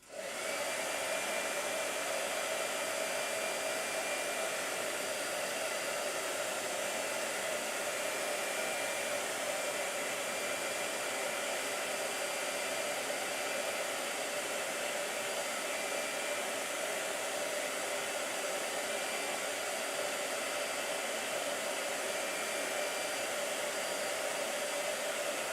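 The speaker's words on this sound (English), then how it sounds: "I'm gonna blow dry" A hair dryer blows steadily and loudly for the whole stretch, drying paint on hot press paper in a sketchbook, with a constant even roar and no voices.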